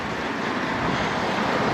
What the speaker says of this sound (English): Big waves bashing against the rocks.